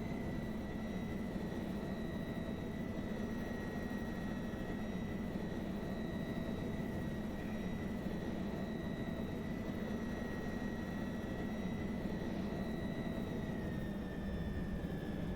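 Steady, faint drone of an aircraft engine in a VR flying game during a landing attempt, a constant whine with tonal hums and no speech over it.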